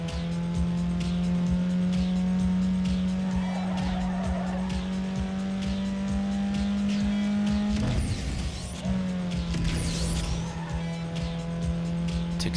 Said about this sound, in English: Took so long to accelerate in that car to the 160.